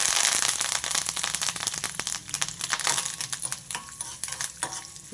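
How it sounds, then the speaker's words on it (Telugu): Curry leaves hit a hot tempering of chana dal, urad dal and cumin in oil, loud crackling and spitting up close with dense sharp pops that gradually thin out while a spatula stirs. "కొంచెం కరివేపాకు"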